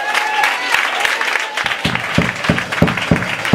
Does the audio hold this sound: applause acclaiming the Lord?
yes